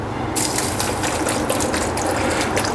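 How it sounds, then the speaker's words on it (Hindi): Water poured into chopped mango in a jug while making mango juice, a steady splashing gush running continuously and fairly loud, with no talk. "और थोड़ा सा इसमें पानी डाल दूँगा,"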